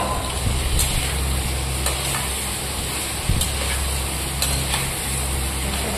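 Potatoes and cauliflower fry with spices in a pan, giving a steady, close sizzle with occasional clicks and scrapes of stirring, and no talking.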